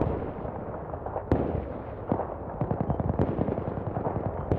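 Gunfire in a military shooter game, with repeated sharp shots and bursts of varying distance against a rumbling battle background, no voices.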